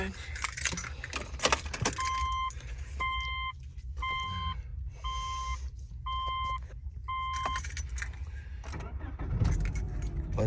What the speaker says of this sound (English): of course, when you drop your keys down inside